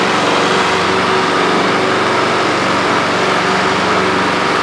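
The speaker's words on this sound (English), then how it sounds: "I have no idea how old that mower is, but it is running." Old lawn mower engine, pulled from the trash after twenty years, running loud and steady at close range with an even buzzing drone throughout.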